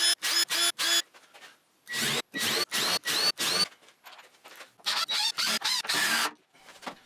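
A power drill drives screws into a wooden mobile assembly cart in loud bursts: four short whirs, then five, then five more, separated by brief quiet gaps.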